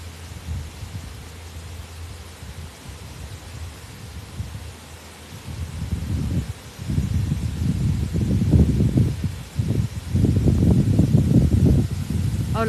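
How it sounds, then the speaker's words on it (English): Strong wind buffeting in a cemetery, low rumbling gusts that swell and fade, growing heavier and more frequent in the second half, close and loud against the microphone. "so I'm sorry if you hear a lot of wind."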